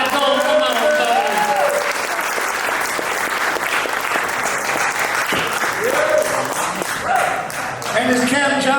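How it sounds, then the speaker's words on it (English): Comedy club crowd claps and cheers loudly and continuously as a comic walks to the stage, with a host talking over the applause and whoops throughout. "Keep that clap going."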